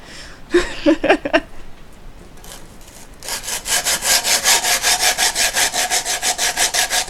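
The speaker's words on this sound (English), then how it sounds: "sandpaper! This is 100 grit." Wood sanded by hand with 100 grit sandpaper: a few scattered scrapes and knocks at first, then steady, evenly paced back-and-forth rasping strokes, close and fairly loud, with no talking.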